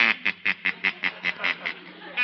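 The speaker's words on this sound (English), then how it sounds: "Your duck, madam, complete with built-in quack." A toy duck with a built-in quack sounds about ten evenly spaced nasal quacks, loud and close, in a steady rhythm.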